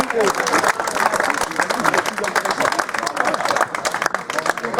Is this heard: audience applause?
yes